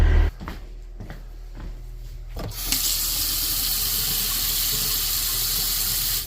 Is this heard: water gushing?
yes